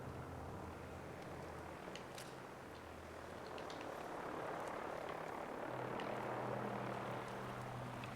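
A Vertibird helicopter in Fallout 4 drones steadily with a low rotor thrum and broadband engine roar, growing slightly louder and nearer toward the end.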